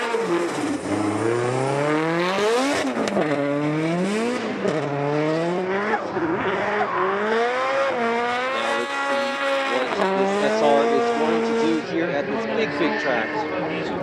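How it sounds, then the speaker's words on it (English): Konosuke Fujimoto's D-Dash Racing S15 drifting at Fuji Speedway during Formula Drift Japan qualifying, its engine loud and close, revving and dropping through repeated shifts with tire squeal mixed in. "Next up is Konosuke Fujimoto in his D-Dash Racing S15, got an 84 on his first qualifying run"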